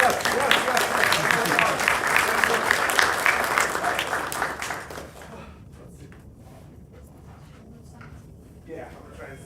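An audience at a GDG Chicago Google I/O Extended meetup bursts into loud, dense applause for about five seconds, then it fades to scattered claps and quiet room murmur.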